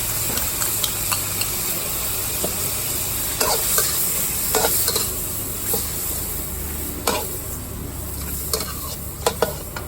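Squid is stir-fried with salted egg, oyster sauce and fish sauce in a hot pan: a steady loud sizzle, broken by repeated scraping clacks of the spatula, with no one speaking.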